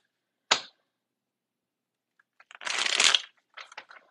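Tarot cards are handled close by: first a single sharp slap, then after a pause a dense riffling shuffle and a few short flicks of the deck.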